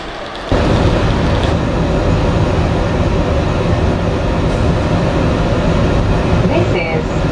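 Interior of a Great Western Railway Class 166 diesel passenger train on the Severn Beach line, a steady loud rumble of the running train that rises suddenly after a quiet half-second and continues throughout.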